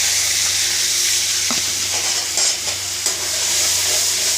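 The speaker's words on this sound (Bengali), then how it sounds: "ভালো করে ভেজে নেব মশলা ভাজা হয়ে গেছে" Ginger, garlic and green chili frying in oil and butter in a pan, a loud continuous close sizzle with a few stirring knocks.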